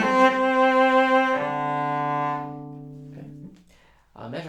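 Solo cello plays a short Popper study phrase, swelling in volume toward the up bows across a few sustained notes; the notes fade out and a voice begins speaking at the very end.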